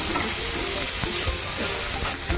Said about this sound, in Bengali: দেখো কয়েক সেকেন্ড একটু নাড়াচাড়া করে নিলাম, হয়ে গেছে আমার সতে।